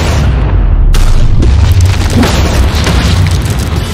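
A massive blast of explosives: a very loud, deep boom that erupts at once and rolls on as a sustained roaring rumble, with crackling debris and no talk.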